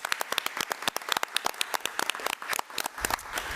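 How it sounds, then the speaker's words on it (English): A school board meeting audience claps for an elementary school teacher, a fairly faint, loose round of individual handclaps with distinct sharp hits, thinning toward the end. "Let's give Ms. Gonzalez a round of applause."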